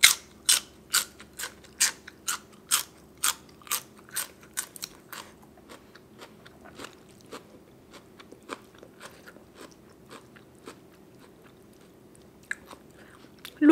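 Crunchy chewing of raw vegetables such as bitter gourd and cha-om, eaten alongside spicy papaya salad with cockles: crisp, evenly spaced crunches close to the mic, loud for the first five seconds, then softer and sparser bites.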